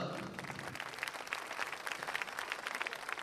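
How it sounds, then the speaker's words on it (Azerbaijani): Audience applause fills a hall at the 2016 Azeri Business Awards ceremony, a dense, steady wash of many hands clapping at moderate loudness for the whole stretch, with no voices standing out. "alqışlarınızla"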